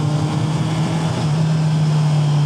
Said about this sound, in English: comments about the exhaust sound